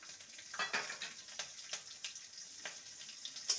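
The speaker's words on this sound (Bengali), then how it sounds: "এবার ফোড়নটাকে ভালো করে নেড়ে নেব।" A spice tempering of cumin, black mustard seeds, asafoetida and chopped green chilli is stirred in hot oil. A soft, even sizzle runs under repeated scraping strokes of a spoon across the pan, close and fairly quiet.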